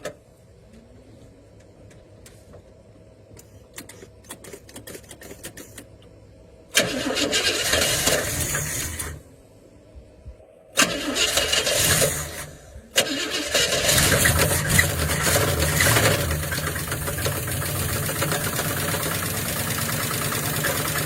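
A 1976 Pontiac engine with a suspected bad connecting rod or bearing cranks and fires, cuts out, then restarts and runs loud and close with a rough, knocking idle.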